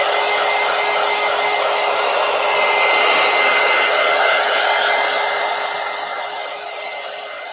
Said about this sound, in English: let me go ahead real quick and hit it one more time with the heat gun